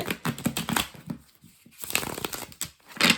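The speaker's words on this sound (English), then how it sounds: "Okay, I'll do a better shuffle because that's going to bother me." Tarot cards being shuffled up close, a run of papery riffles and flicks in bursts, pausing briefly before another quick shuffle.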